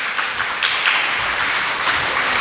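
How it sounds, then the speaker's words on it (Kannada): A church congregation applauding during a Kannada gospel sermon, steady dense clapping sustained throughout with no break, moderately loud and without talk. "ಜೋರಾಗಿ ಚಪ್ಪಾಳೆ ತಟ್ರಿ"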